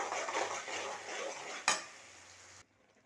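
Masala with chilli powder, coriander powder, garam masala and chicken masala being sautéed and stirred in a pan for masala puri, a steady close sizzle with scraping strokes and one sharp clank, cutting out abruptly near the end.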